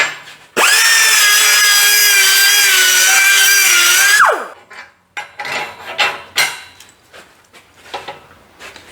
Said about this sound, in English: let me take this die grinder and clean it up